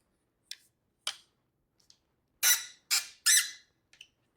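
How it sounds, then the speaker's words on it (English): Legs of an 83-inch XXZU camera tripod squeaking as they are spread to a wider stance, a series of sharp, high, brief squeaks, some isolated and three louder ones close together, in an otherwise quiet room. "I'm telling you, the squeak is no joke."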